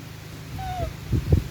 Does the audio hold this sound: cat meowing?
yes